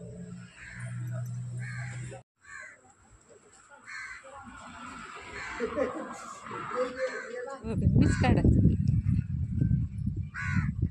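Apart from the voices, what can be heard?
crow cawing near a temple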